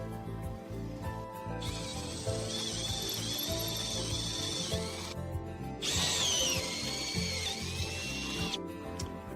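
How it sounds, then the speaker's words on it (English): A power drill runs in long whining bursts, drilling 9 mm holes through the thin outer sheet metal of a van's rear door with a high metallic screech, pausing briefly between holes; no one speaks. "drill the other 3 holes in the right rear door to 9 mm, drilling only the outer sheet."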